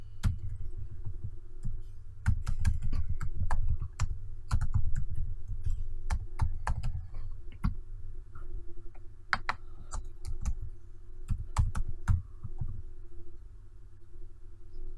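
Computer keyboard typing while writing Java code, close and steady keystrokes in irregular bursts with short pauses, clicks standing alone without talk over a low hum.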